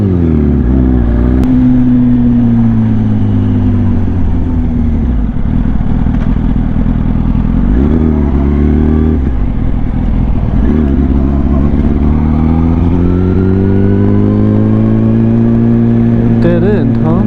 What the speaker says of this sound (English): just start staying in it until it hits the rev limiter and comes back down